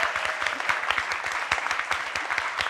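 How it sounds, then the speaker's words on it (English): An audience claps steadily for the interpreters at a climate justice event, a dense, even patter of many hands heard close and continuous with no talk over it. "Big round of applause for our interpreters"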